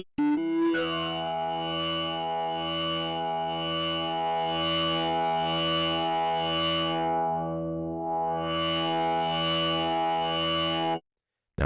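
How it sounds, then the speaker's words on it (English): Flame distortion effect on an Omnisphere 2 synth layer, a sustained gritty, buzzing chord with slowly pulsing, swelling brightness, held loud and alone for about ten seconds before cutting off. "Maybe the flame distortion would be nice."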